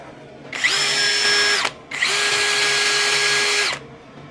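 A Mollar CD12300 brushless cordless drill boring into 18 mm plywood at speed 2, two sustained high-pitched whirring bursts separated by a short pause, loud and close.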